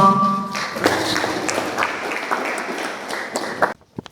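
An audience at a French-language poetry competition semi-final in Rwanda breaks into applause after a brief tonal voice. Loud, crisp clapping with sharp individual claps stops abruptly near the end.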